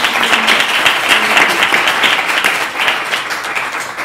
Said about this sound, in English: Can we applaud them and their efforts?